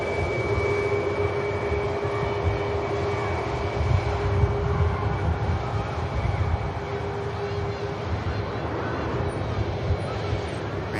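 An EasyJet airliner bound for Paphos taxis at Manchester Airport, giving a steady, continuous jet engine roar with a sustained whine that stays constant in level throughout, under faint background sound.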